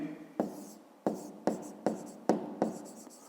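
Chalk or marker strokes on a board during a fifth-grade maths lesson, a series of about six sharp scratchy taps and scrapes at irregular intervals, close and clear with no talk.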